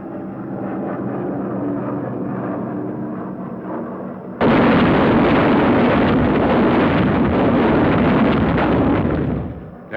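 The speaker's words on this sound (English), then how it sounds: "Another drop of the jellied gasoline bombs." Jellied gasoline incendiary bombs dropping and exploding in 1945 wartime footage: an aircraft drone gives way to a sudden loud, sustained roar of blasts and fire that cuts off abruptly.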